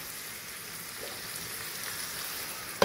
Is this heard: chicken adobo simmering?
yes